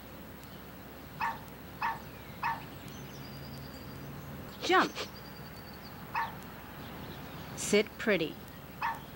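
Cartoonish dogs in the video game Puppy Luv give short, scattered barks and yips, some in quick pairs, over a steady background hum while a voice calls out trick commands.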